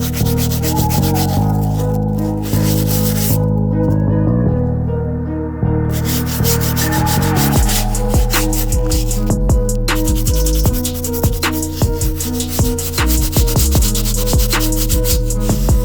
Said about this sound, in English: moving on to our stiff bristle brush to get these soles looking right